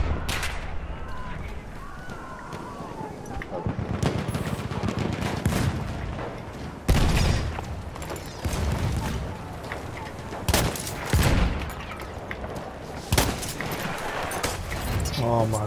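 Gunfire in the video game Battlefield 1, including sniper shots, fills the scene as repeated sharp cracks and booms over a constant battle din, with a player talking throughout.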